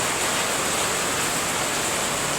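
Dense, steady hiss of heavy rain falling without pause, even and continuous throughout.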